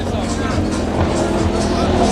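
A 6.3-litre race car engine screams on a track day, a continuous loud high-revving howl held steady throughout, with someone talking over it.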